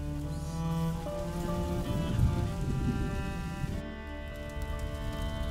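Steady rain falls in the video game A Plague Tale: Innocence, a dense, even hiss of drops on surfaces with a faint low rumble beneath, unbroken throughout.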